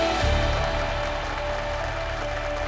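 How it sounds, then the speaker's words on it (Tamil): Studio audience applause on a Tamil startup pitch show, a dense continuous burst of clapping that holds steady and fairly loud across the short stretch. "உங்களோட கைத்தட்டல்கள் தொடர்ந்து இந்த மாதிரி வந்துகிட்டே இருக்கட்டும்."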